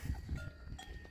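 Cowbells clank on cattle grazing on a farm, several soft metallic knocks at uneven intervals over a low, quiet outdoor background with no talking.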